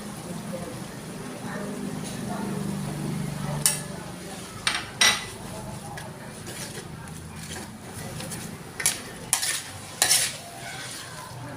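Beef tossed in a hot pan for a stir-fry with peperomia, giving a steady low sizzle and scraping, with sharp clinks of a utensil striking the pan at intervals, close and moderately loud.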